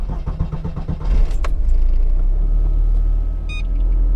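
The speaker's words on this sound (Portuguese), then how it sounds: "Agora eu vou ligar o carro" A car with a temperature-alert gauge is switched on: keys jangle and click briefly, then the engine catches and settles into a steady, close, low rumbling idle, with no talk.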